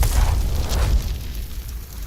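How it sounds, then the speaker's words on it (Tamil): A thrown firecracker bursts with a loud, broad boom at the start, then fades into a low, rumbling roar that trails off over the next two seconds. "அவன் தன் பையில் இருந்து வேகமாக ஒரு வெடியை எடுத்து அதை பக்கத்தில் இருந்த தீப்பந்தத்தில் பற்ற வைத்து அதை ஜோதியை நோக்கி எறிந்தான்"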